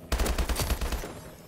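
A rapid burst of automatic fire from a gun in Call of Duty: Advanced Warfare multiplayer, about ten quick, punchy shots in a row that trail off after a second, loud and with no voices.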